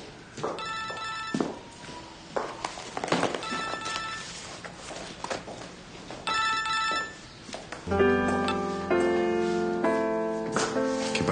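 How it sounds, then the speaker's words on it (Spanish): A telephone rings in short, repeated bursts of bright, bell-like tones. After a few quieter rings, a denser, sustained ring takes over near the end, with faint footsteps and room noise between the rings. "Teléfono, ya sé."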